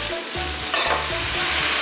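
Beef with taro shreds and chili strips tossed in a hot wok, loud sizzling under repeated scraping strokes of a spatula in a steady rhythm.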